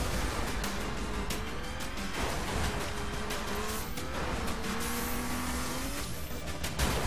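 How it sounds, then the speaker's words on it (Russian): A car driven in the racing video game The Crew revs steadily with a constant engine drone, rising pitch shifts as it accelerates, and a few tire squeals. "Тачка эта едет весьма посредственно. Зато она прыгает хорошо."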